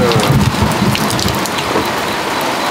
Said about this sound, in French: il y a beaucoup d'éclairs mais il y a peu de tonnerre